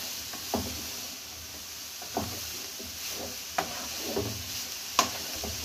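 Carrots being stirred in ghee for carrot halwa, with soft scraping and knocking at a steady pace of a few strokes over a faint sizzle.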